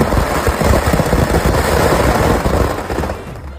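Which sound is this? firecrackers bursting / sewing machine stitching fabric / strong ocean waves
firecrackers bursting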